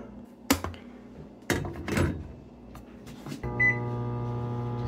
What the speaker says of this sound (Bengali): আমি আমাদের ভেজিটেবলসটাও গরমে দিয়ে দিই ওভেনে